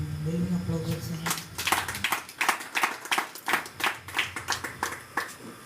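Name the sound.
congregation applause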